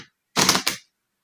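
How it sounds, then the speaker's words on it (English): A single quick riffle of playing cards being shuffled for a card trick, a short crisp burst of flicking, close and alone in otherwise silent surroundings. "I'm gonna shuffle this."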